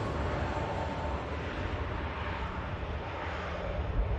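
A Turkish Airlines jet taking off at Manchester Airport on its return leg to Istanbul, a steady broad engine roar with wind rumble, loud and sustained without letup.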